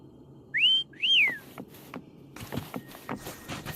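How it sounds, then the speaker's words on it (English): Two quick rising-and-falling whistles ring out clearly in the game Wuthering Waves, followed by soft patters and light tapping noises in a quiet space. "Try whistling."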